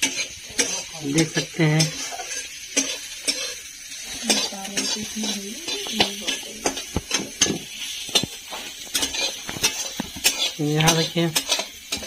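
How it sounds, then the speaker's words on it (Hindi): Onions frying and being stirred in a pan before foraged wild mushrooms go in: repeated scraping and clinking of a utensil against the pan over a soft sizzle, with a person talking throughout. "प्याज भुंजा रहा है"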